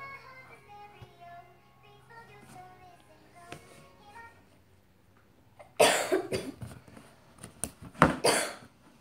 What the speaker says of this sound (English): It's cough.